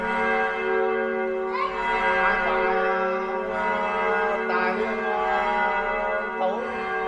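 Three newly installed church bells at a parish church in Thai Binh, Vietnam, ring in a sustained resonant tone, with fresh strikes roughly every second or two and long overlapping hums.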